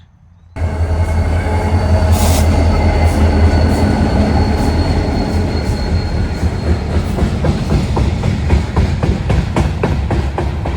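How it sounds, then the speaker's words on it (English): A freight train loaded with lumber rolls past close by, a loud continuous rumble with rhythmic wheel clatter and a brief high squeal, the clicks of the cars quickening toward the end. "Here comes the train."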